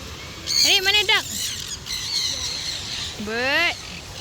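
Bird in an aviary at a bird park giving harsh, nasal squawking calls, two loud bursts close by, with people talking nearby.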